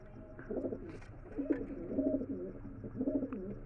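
Pigeons coo in soft, repeated, throaty bursts at a pigeon market, fairly close but low in level, with faint market background noise around them.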